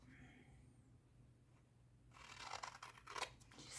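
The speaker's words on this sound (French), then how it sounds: "On coupe au milieu." Scissors snip through paper for a pop-up winter album, a quiet close crunch of several quick cuts following a near-silent pause.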